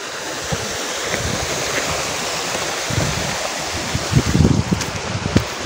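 The Khare Khola, a hill stream in Dhading, rushes steadily over rocks, a continuous broadband wash with small splashes and bumps near the mic in the last seconds.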